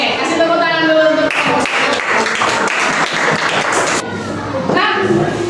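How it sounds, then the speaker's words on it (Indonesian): Classroom applause at a primary school, a dense steady clapping from schoolchildren filling the room, with a teacher and kids' voices talking over it. "kasih tepuk tangan dulu untuk"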